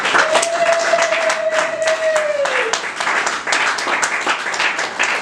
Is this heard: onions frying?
no